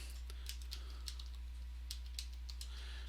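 Typing on a computer keyboard during a programming lecture, with light irregular key clicks over a steady low electrical hum and no voices.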